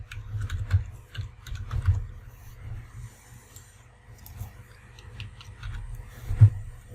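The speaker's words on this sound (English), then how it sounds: "So we type that in and we'll fill out the rest of the information" Irregular clicks from a computer keyboard as trading data is entered into MetaTrader 4, with a few louder taps standing out among quick bursts of keystrokes, close and alone without speech.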